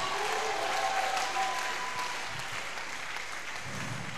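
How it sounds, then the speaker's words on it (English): Congregation clapping at a revival tent meeting, a sustained wash of many hands at moderate distance that eases slightly toward the end, with no talk over it. "Can you clap for Jesus?"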